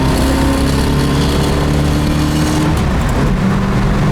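A 1966 Ford Mustang coupe engine revs hard and loud, a rough steady roar that eases slightly toward the end.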